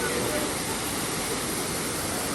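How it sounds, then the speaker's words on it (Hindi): Waterfall on the descent from the Neelkanth Mahadev temple near Rishikesh, Uttarakhand, giving a steady, close, broadband rush of falling water that fills the whole moment without a break. "तो नीलकंठ से उतरते टाइम आपको ये झरना मिलेगा।"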